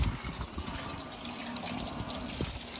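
Water is poured over a strap being washed, giving a short, continuous splashing gush close by with no talking.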